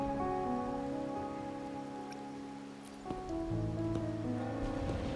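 Steady in-game rain falls on surfaces in the fantasy RPG Wuthering Waves, a soft continuous patter heard under layered sustained music tones, with no speech.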